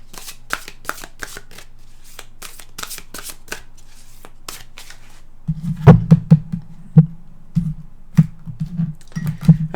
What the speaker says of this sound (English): we're going to pick an extra card here too to give us some more definition to that.